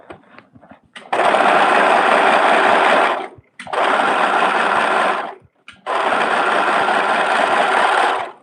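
An overlocker serger sews a bedsheet skirt in three long, loud bursts of steady whirring, separated by brief pauses, close up with no talk.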